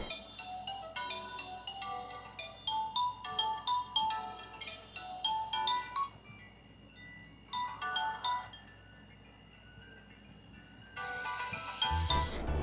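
A Realme GT Master Edition 5G phone plays music through its small loudspeaker: bright, tinkly chime-like tones in bursts with short pauses, quiet overall, ending in a louder, denser passage.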